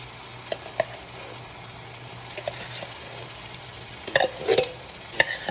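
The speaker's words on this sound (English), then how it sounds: "next we're going to go ahead and drop our beans right in there." Baked beans being stirred into browned ground beef in a pan make a soft, continuous sizzle. Scattered clinks and thicker stirring sounds come near the end, close up and with no talking.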